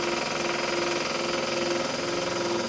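A metal-cutting machine, likely a shaper or similar, runs its tool back and forth across a steel workpiece held in a vise, giving a steady, loud mechanical drone with a faint repeating rhythm and no talk.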